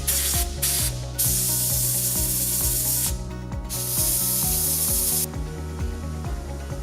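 Aerosol can spraying clear protectant onto the cable ends of a Group 25 battery in a 2013 Subaru Outback, a steady close hiss in several long bursts with brief pauses between.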